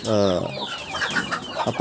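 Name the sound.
black free-range chickens clucking while eating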